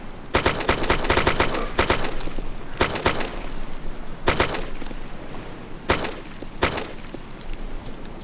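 Gunfire in the video game DayZ, several loud bursts and single shots cracking over a constant rumbling game ambience, spaced irregularly with short gaps between them.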